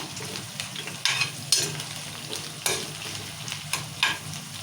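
Green chillies fry in a pan while being stirred, with a steady background sizzle broken by several sharp scraping stir strokes, close and fairly quiet, no talking.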